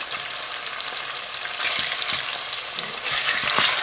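Pork sizzles steadily in hot oil in a pan with black bean paste, a dense continuous frying hiss broken by a few spatula stirs, growing louder near the end.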